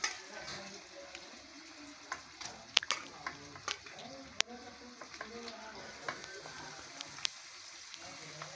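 Meat goes into a pan with onions already fried, giving a low sizzle and frying crackle broken by sharp clinks and scrapes of stirring, fairly quiet and close.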